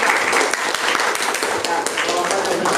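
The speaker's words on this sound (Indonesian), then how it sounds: "Kita beri aplaus kalau." A classroom of students breaks into brisk, dense applause, many hands clapping quickly and fairly loudly for a few seconds with no pause.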